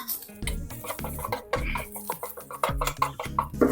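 Thai curry paste stir-fried in vegetable oil over the lowest flame, heard as irregular scraping and knocking of a utensil against the pan with soft bursts of sizzle between strokes.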